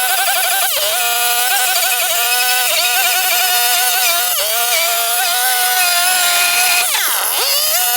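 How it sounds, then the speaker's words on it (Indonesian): An electric wood planer shapes the hull of a traditional wooden boat, its motor whining steadily up close with brief dips and surges as the blade bites into the timber. "yang depan kita gunakan mesin serut saja ya"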